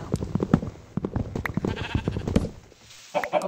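Sheep bleating in the video game Minecraft, several short wavering bleats in quick succession, close and clear, followed by a brief pause and one more call.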